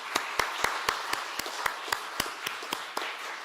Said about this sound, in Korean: 박수로 서로 화답하겠습니다